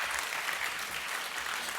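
An audience applauds at a talk, a brief dense patter of clapping, fairly soft and steady, with no voices over it.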